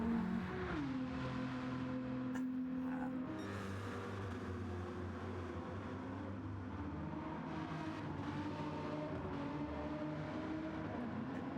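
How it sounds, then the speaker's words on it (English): GT3 race cars roar past in a video game race, a steady, droning engine sound with shifting pitch as they accelerate and change gear. "absolutely love the sound of these GT3 race cars"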